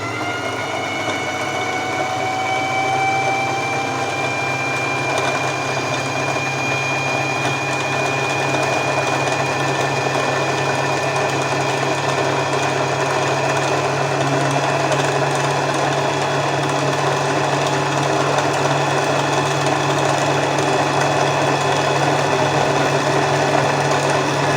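Empisal domestic sewing machine running steadily while winding a bobbin, a continuous close whirring motor hum with a faint rising whine that holds for the whole stretch, with no voices.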